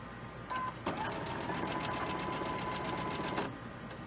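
A sewing machine stitches quilt fabric for autumn sunflower quilt blocks in one continuous, even run of close, steady whirring and needle clatter lasting about three seconds, with no voices.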